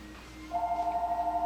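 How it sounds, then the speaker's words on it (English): Telephone ringing indoors in a workshop: a steady warbling electronic ring tone starts partway in and pulses rapidly, moderately near, over a faint background hum with no talk. "I hear the phone ringing"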